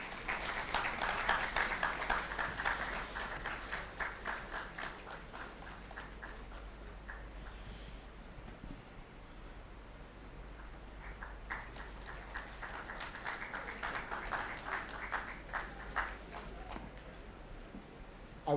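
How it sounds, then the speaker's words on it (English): Audience at a youth consultation event at IIM Raipur claps in a faint, scattered round that swells at the start, dips in the middle, then rises again. "Let's have a round of applause, everyone."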